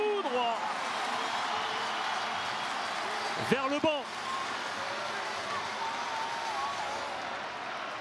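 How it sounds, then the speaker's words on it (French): A stadium crowd at Parc des Princes applauds Kylian Mbappé during PSG against Toulouse, a dense, continuous wash of clapping and crowd noise that lasts the whole stretch while a commentator speaks over it. "Et il est applaudi"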